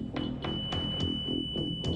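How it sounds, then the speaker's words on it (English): A repeating electronic beeping signal pulses in a rhythm like Morse code, sounding at regular intervals over a steady high-pitched tone and background noise, with no talking. "Are you sending us Morse code signals? That's what it sounds like, right? Like SOS."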